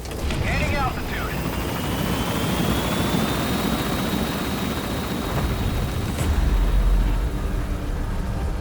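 Helicopter rotor and engine drone in Metal Gear Solid V, a steady loud wash as it lifts off from a landing zone, with radio voices talking over it.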